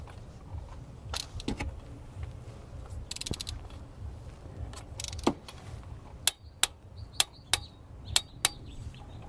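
A wrench tightens a spark plug to 13 foot-pounds on a Toyota Highlander engine, with faint handling knocks early on, then a run of crisp, evenly spaced ratchet clicks near the end in a quiet workspace.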